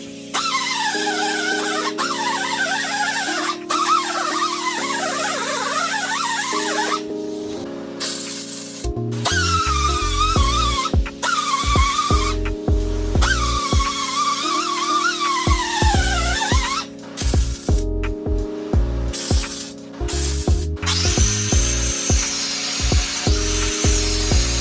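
Grinding out an old weld on a Harley-Davidson Sportster hardtail frame: a loud, continuous power-tool whine that rises and falls in pitch, broken by short pauses and bursts of harsh metal grinding, with no talking.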